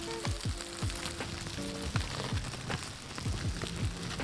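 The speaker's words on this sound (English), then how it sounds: "they are actually put into this bag and it's filled with newspaper. And I don't know if the camera will pick this up, but you can hear them." Superworms crawling inside a bag filled with newspaper make a steady dry crackling and rustling, with scattered sharp clicks and a few faint tonal blips underneath.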